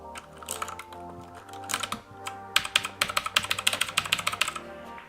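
Rapid typing on a Tomoko 87-key mechanical gaming keyboard, a dense run of crisp, close clicky keystrokes that speeds into a quick burst, heard alone with no talking.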